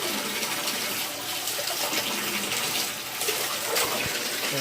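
Water pours steadily into a bathtub being filled for a bath, a continuous close hiss and splash with slight gurgling variations and no talking.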